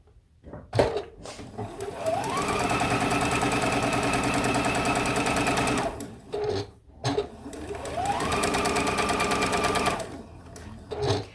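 A sewing machine stitches a quilt block in two long, steady runs of rapid mechanical chatter, each starting with a rising whir and ending in short stops and handling noises, close up.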